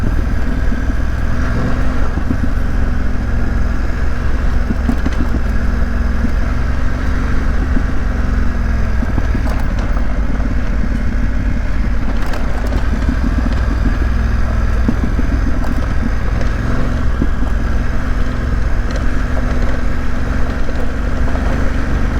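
A BMW F900GS motorcycle rides a dirt road in Tennessee, its engine droning loud and close throughout, with wind rush and clattering gravel over a steady rumble and no talking.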